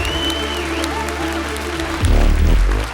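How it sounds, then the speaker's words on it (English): Audience applause at a gala event, a steady wash of clapping with a low music bed underneath, swelling louder for the final second. "Actually, it's a good time for applause."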